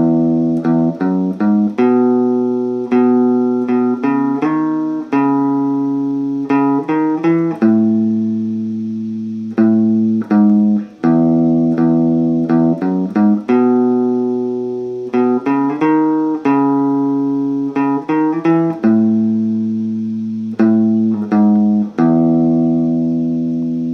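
A clean guitar plays a riff, a repeating pattern of plucked notes and short arpeggios that ring clearly and alone over about twenty seconds.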